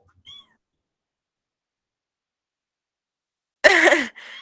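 A cat gives one short faint sound, then after a long silence lets out a single loud, drawn-out meow close by, followed by a brief trailing noise.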